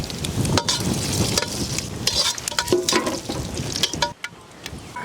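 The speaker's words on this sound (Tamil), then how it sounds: "தாலிக்கு பாத்திரத்தை வச்சுக்கலாம், நெய் சேர்த்துக்கலாம், வரமிளகாய் சேர்த்துக்கலாம்." Ghee and dried red chillies crackle and sizzle in a hot pan for a village-style tender coconut chicken gravy, with a close, bubbling spit and scraping stirs that fade toward the end.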